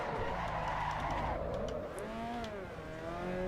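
A race car spinning out in Assetto Corsa EVO, engine howling while tires squeal and skid continuously, the pitch sweeping down and back up through the spin, close and loud, with no voices.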